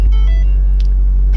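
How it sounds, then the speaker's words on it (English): A 2010 Ford Focus SEL with a gear shifter fault that won't select a gear starts up, giving a loud, close low rumble from its engine with a short higher click partway through. "Start the car up."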